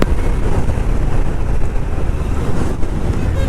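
Honda H'ness CB 350 motorcycle cruising at speed near 130, its exhaust a steady low rumble buried under heavy wind buffeting on the microphone, continuous throughout with no talk.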